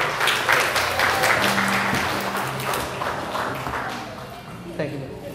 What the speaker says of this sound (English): Round of applause for Bill.